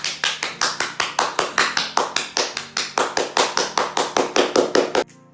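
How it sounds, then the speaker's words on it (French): Steady, rhythmic clapping from an audience at a talk show, sharp regular claps about four per second, close and loud, stopping abruptly. "Ça mérite des applaudissements"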